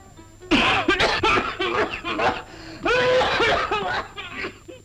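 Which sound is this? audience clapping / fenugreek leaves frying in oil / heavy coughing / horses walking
heavy coughing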